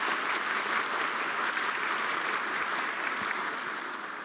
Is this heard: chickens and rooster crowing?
no